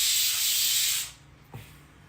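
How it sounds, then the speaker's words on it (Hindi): A pressure cooker boiling chickpeas lets off a loud, steady steam whistle that hisses for about a second and then cuts off, leaving a faint low rumble with a brief knock. "प्रेशर कुकर सिटी मार रहा है"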